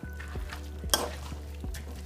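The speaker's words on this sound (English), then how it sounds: "And then we'll just go ahead and mix it." Shrimp ceviche being stirred in a bowl, a few soft rhythmic scrapes and wet sloshing strokes with one sharper clink of utensil against the bowl, close and quiet, no talking.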